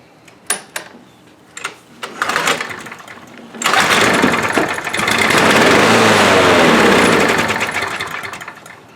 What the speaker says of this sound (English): how to fix a lawnmower, any lawnmower, that starts and then dies